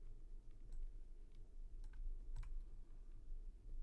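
Quiet, close typing on a computer keyboard, with a few scattered key clicks over a low background hum.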